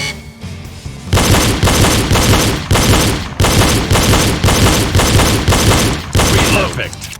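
Pistol shots fired as double taps at targets during a reload drill, loud close pairs of sharp cracks repeating in quick succession over a few seconds.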